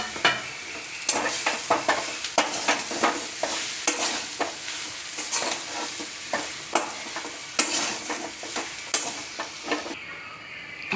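Mashed boiled potato is stirred into a frying masala in a pan, loud steady sizzling broken by regular scraping stirs roughly every half second, close and alone without talk.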